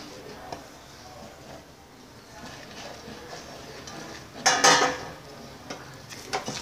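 Rice flour stirred into simmering water in a pot for sweet karadaiyan nombu adai, with scattered clinks and scrapes of a utensil against metal and a louder burst of clattering partway through, fairly quiet overall.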